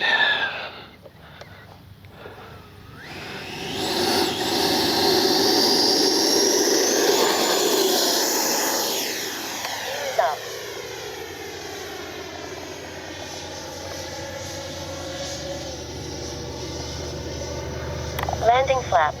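An FMS Avanti S 90mm electric ducted-fan RC jet flies past, its whine swelling loud overhead, then sweeping down in pitch as it recedes, lingering as a distant tonal hum, with people talking nearby.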